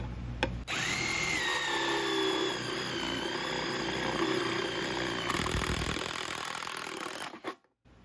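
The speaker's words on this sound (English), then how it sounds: "We usually punch our holes with a 1-inch paddle bit like this for wood." A 1-inch paddle bit on a power drill bores into a K-style gutter, a loud steady whining drone that runs for several seconds, then cuts off abruptly near the end.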